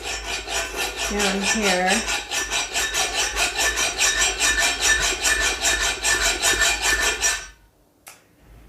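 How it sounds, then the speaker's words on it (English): A hacksaw cuts into a fired ceramic piece in quick, regular rasping back-and-forth strokes, close and steady, before stopping abruptly; a voice speaks briefly near the start. "I don't even know if I can get the hacksaw in there"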